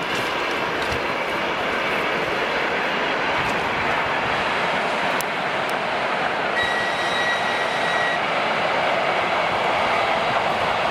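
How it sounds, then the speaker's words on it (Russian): Electric commuter train of about six cars crossing a railway bridge, a steady broad rumble and rail roar filling the whole stretch at close range, with a brief high whine partway through. "Это электричка идет."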